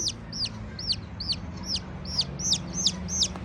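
A chick peeps in a quick, regular series of high chirps, about two per second, over a low steady hum of chickens clucking and background noise in a Turkish village.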